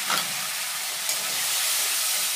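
Spice paste hits fried onions in a pan with a sharp hiss, then settles into a steady, close sizzle, with no talking over it.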